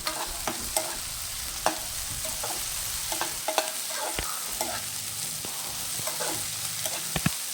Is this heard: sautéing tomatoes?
yes